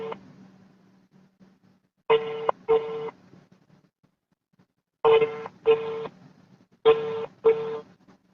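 A telephone handset dials a call with a series of short electronic keypad tones, a lone beep followed by three closely spaced pairs, separated by near silence and a faint low hum.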